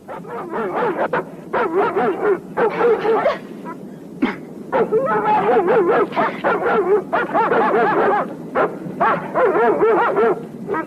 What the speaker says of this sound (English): Set the dogs loose! Let's see what they can do.